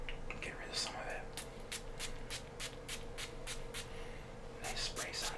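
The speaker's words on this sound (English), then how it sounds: "Nice spray sound effects." Several short hissing bursts from a perfume spray bottle in a row, fairly close, over a steady low hum in the background.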